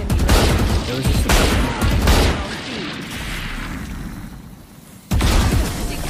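Bursts of Vandal rifle fire crack out in rapid fusillades during a ranked Valorant match, loud repeated volleys separated by short pauses, with players talking over the shooting.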